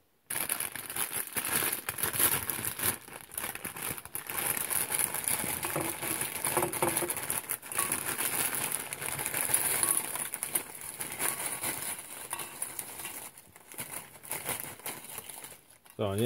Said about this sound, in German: So, ich habe hier eine Tüte Chips.